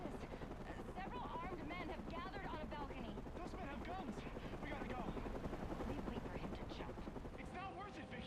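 A helicopter in the video game Batman Arkham Origins churns with a loud, continuous rotor roar, mixed with dense game effects and voices talking throughout.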